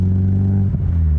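Honda S2000 engine revving hard but held back from VTEC, a loud, close, steady droning rev that dips briefly and then carries on.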